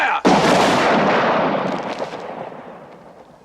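A military firing party lets off a single sharp rifle volley at close range, a loud crack followed by a long rolling echo that fades over a few seconds.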